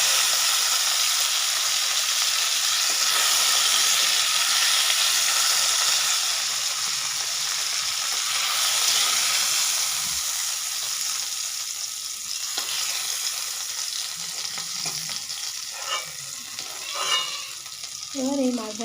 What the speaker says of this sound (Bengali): বাকি মাছগুলো আমি ঠিক একই রকমভাবে ভেজে নেব